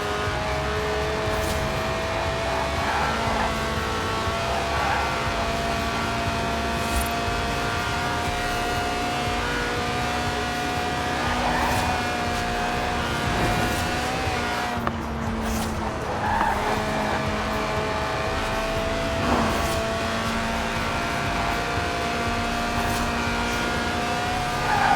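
A high-revving Lotus 1.8-litre engine screams toward 8,000 RPM with tire squeal and skidding, loud and close, in Forza Horizon 4.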